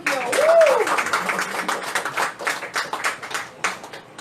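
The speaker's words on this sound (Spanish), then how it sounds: "Den un aplauso al Señor." A church congregation claps for the Lord, with scattered, uneven hand claps continuing steadily throughout. A short sung or voiced tone rises near the start, and soft voices are heard underneath the clapping.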